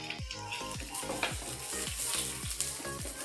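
Onions fry in a pan for a paneer tikka masala gravy, a steady close sizzle with repeated scraping stir strokes at an even rhythm, and no voices over it.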